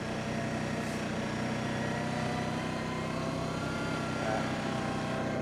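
An Arctic Cat Diesel 700 utility vehicle on a snowy ride holds a steady, even engine drone under light throttle, running close and continuous with no clear change in pitch.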